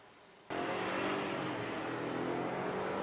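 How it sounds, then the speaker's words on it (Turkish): A BMW 520i running on LPG pulls away from a standstill, its engine bursting in suddenly and holding a loud, steady accelerating roar close by with no talk over it. "Kalkış da süper bu arada"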